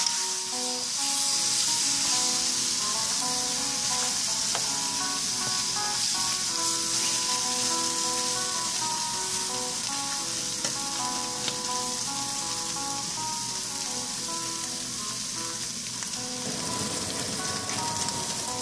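Onion rings sizzling steadily in a hot pan for a pork chop bistek, a loud continuous frying hiss with faint crackles and no talk.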